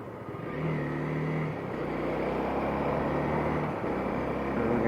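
A motorcycle picks up speed again on a road, its engine a steady droning roar that rises slightly in pitch, heard from the rider's position over continuous wind and road noise, with no talking.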